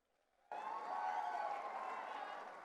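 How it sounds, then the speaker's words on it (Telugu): A crowd at a live Telugu folk song performance breaks into loud, sustained applause that starts abruptly and holds steady, dense and even, to the end. "గట్టిగా మోమాటలు లేకుండా చప్పట్లు కొట్టచ్చు."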